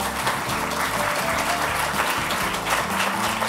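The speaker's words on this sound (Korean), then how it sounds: "다시 한번 많은 박수 부탁드립니다." Sustained audience applause at an arts awards ceremony, a full, even roar of clapping from a large crowd with a low musical bed underneath throughout.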